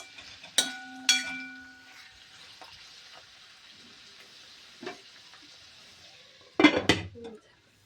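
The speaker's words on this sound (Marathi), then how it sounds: "छान फिरवून घ्यायचं मीठ टाकल्यानंतर" Salted kuda flower vegetable stirred in a pan, with a couple of metallic clinks, soft scraping and a steady low sizzle, then a louder cluster of spoon-on-pan knocks near the end.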